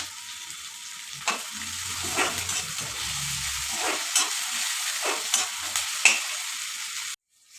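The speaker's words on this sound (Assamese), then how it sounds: "পিঁয়াজ, আদা, নহৰু, জলকীয়া ভাজা হৈ গ'ল।" Onion, ginger, garlic and chili fry in hot oil, giving a steady sizzle with periodic scraping clicks from stirring, close and moderately quiet, ending abruptly.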